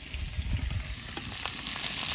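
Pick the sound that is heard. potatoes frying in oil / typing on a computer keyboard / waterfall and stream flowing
potatoes frying in oil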